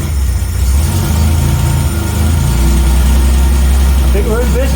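Reliant Scimitar GTE SE6A engine revving up and settling toward idle after a starting problem, a loud steady low rumble close by, with a person talking over it.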